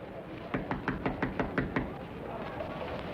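Knocking on a door in an old film, a quick run of about seven sharp, evenly spaced raps, fairly close and loud over a hissy background.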